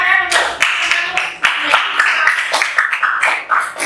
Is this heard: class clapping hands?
yes